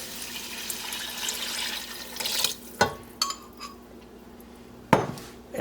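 Beef broth poured into a soup pot over softened vegetables for beet soup, a steady rushing splash for a couple of seconds followed by a few sharp metallic clanks of pot and utensils, close up.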